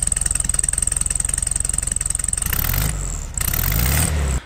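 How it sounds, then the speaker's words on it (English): A 1971 VW Super Beetle engine idles through chrome exhaust tips with a steady low pulsing throb, then revs up louder and rougher for a few seconds, dips briefly, and revs again close by. "It's the chrome exhaust tips that come on our 71 Super Beetle."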